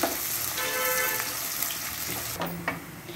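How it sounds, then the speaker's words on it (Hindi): Chopped onions sizzle and crackle in hot mustard oil in a home kitchen pan, a steady close frying hiss with a faint stirring clatter near the end. "अभी मैं इसमें प्याज डालूंगी। थोड़े समय के लिए हम इसे फ्राई कर लेंगे।"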